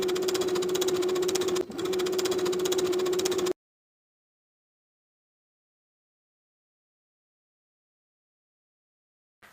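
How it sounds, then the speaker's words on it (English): A sewing machine running its longest stitch runs easing stitches on a dress sleeve, a steady mechanical whir for about three and a half seconds with one brief dip, then silence. "Using the longest stitch on your machine, sew from dot to dot, leaving thread tails on both ends for easing."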